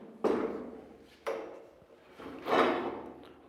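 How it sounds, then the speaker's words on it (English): A heavy armored shelter door in a prepper bunker is worked open with three distinct clunks and scraping slides, loud and close in a quiet space. "Open the armored door,"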